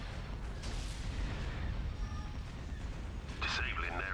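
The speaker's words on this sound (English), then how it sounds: "Hit the ion cannon banks." Ion cannon fire in a Star Wars space battle video game, a steady rumbling barrage of distant booming blasts with radio-style voice chatter over it and a brighter electronic burst near the end.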